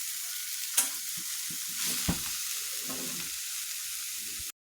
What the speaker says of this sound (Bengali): এখন আমি কিছু চিপস আছে ভেজে নিব